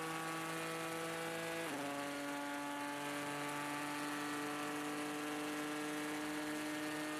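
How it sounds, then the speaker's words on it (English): Onboard a Ford GT race car at Le Mans, its turbocharged V6 EcoBoost engine holds a steady, sustained drone whose pitch drops once early on, like an upshift, then stays level and loud throughout. "the V6 turbocharged Ford EcoBoost engine sounds absolutely amazing as they go"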